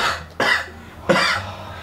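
A child coughs twice, two sharp bursts about half a second apart, loud and close against a quiet room with no talking.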